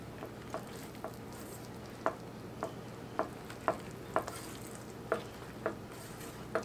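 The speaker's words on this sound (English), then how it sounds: "You can just stir it around in here and get it all mixed up good." Creamed spinach stirred in a ScanPan non-stick pan, a spoon scraping in regular strokes over a low simmering sizzle, close and moderately loud.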